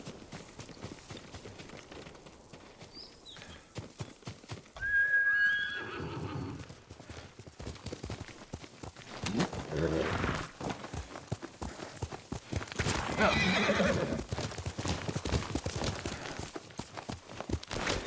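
In the Ghost of Tsushima video game, a horse whinnies loudly and its hooves clip-clop on the ground, with the steps continuing at a steady pace, fairly close.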